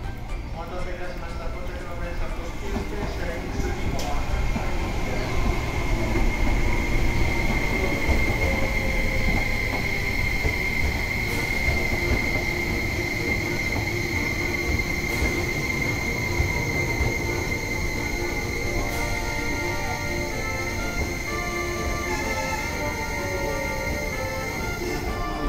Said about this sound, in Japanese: まもなく1番線にスペーシア X2 号到着です。